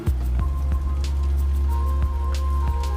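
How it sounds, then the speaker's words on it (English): Rain falling on the Tokyo course of the game Walkabout Mini Golf, a steady soft patter with scattered individual drops landing nearby over a low constant background. "I think it's raining."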